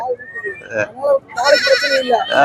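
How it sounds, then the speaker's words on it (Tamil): Goats bleat loudly and close at the Moonampalli goat market, with repeated wavering cries overlapping and mixing with people talking nearby. "பால் குட்டி ரெண்டும் பால் குட்டி ஆடு இருக்குது"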